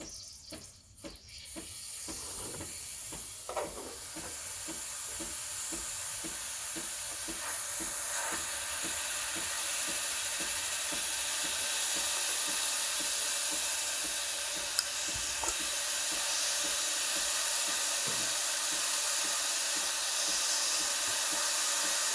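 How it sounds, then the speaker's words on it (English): A Breville Barista Express BES870 espresso machine's steam wand hisses steadily and loudly for over twenty seconds after a brief start-up sputter, with faint clicks and gurgles under the continuous jet of steam. "So the machine takes about 10-15 seconds to start steaming."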